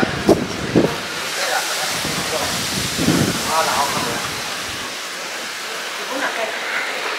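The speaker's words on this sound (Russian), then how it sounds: "Какой ветер." Strong wind buffeting the microphone outdoors in Gamcheon village, Busan, Korea, giving a loud, continuous rushing roar with gusty bursts and a few low thumps.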